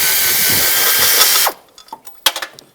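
A ratchet works a bolt loose from the electric water pump of a 2010-2015 Toyota Prius. A loud, steady mechanical whir is followed by a few sharp, separate clicks and clunks close by.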